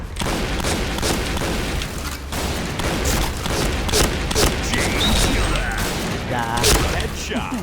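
Grenade blasts and gunfire in a first-person shooter game, with repeated booming thuds and crackling bursts running continuously under excited player voices.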